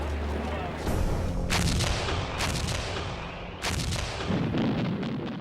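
Anti-aircraft guns fire in WWII archival footage of the British gun screen around London against flying bombs. Loud booming bursts come at intervals over a constant rumbling background.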